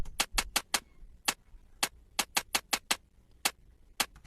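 Hi-hat made from a pitched-up Mario 64 game sound sample, short crisp ticking hits played in an uneven pattern, about fifteen of them over a few seconds, quiet and dry with no talking.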